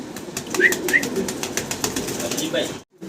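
White Danish pigeons coo and flap their wings up close, with soft cooing calls, quick wingbeat bursts and clattering movement, ending in a brief silence.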